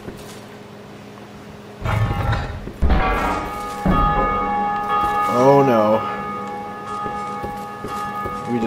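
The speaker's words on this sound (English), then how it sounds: "We just ring a bell" A bell rung in the Dark Souls 2 video game, with deep, sustained tolling tones and swelling resonance that linger over a low rumble, while someone speaks briefly over it.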